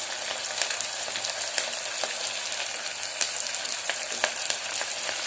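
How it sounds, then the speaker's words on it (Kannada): Curry leaves and large chillies hit hot oil with browning onions, giving a bright, continuous sizzle and crackle with small pops scattered throughout, close and steady with no talking. "ಈರುಳ್ಳಿ ಸ್ವಲ್ಪ ಕಲರ್ ಚೇಂಜ್ ಆದಮೇಲೆ ಕರಿಬೇವು ಮತ್ತು ದೊಡ್ಡ ಮೆಣಸಿನ್ಕಾಯಿನ ಇಲ್ಲಿ ಸೇರಿಸ್ತಾ ಇದ್ದೀನಿ"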